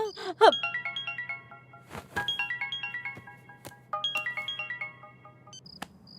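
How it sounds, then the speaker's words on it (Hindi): An outgoing phone call's ringback tone repeats in short melodic bursts of chiming notes, moderately quiet, with a few brief thumps and noises between the rings. "ये लीजिए, रिंग जा रही है।"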